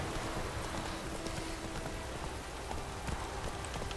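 Roach the horse's hooves clip-clop continuously in The Witcher 3, a steady, fairly close patter against a noisy, rain-like background.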